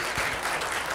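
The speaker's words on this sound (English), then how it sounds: "one more loud round of applause for Brother Salman Jafri for coming out here tonight" Applause from the crowd at a volunteer appreciation dinner in a masjid, a brief burst of steady clapping heard alone at an even level.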